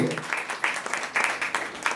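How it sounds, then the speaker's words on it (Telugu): Audience applause at a 70th birthday celebration for a reverend, a short burst of scattered, uneven clapping that swells and fades in quick pulses, moderately close but fairly quiet. "చప్పట్లు కొట్టండి ఒకసారి."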